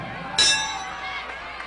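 A wrestling ring bell clangs once at an NWA house show in Houston, signalling the start of the deciding third fall of a tag team match, a single bright ring that fades over a murmuring crowd.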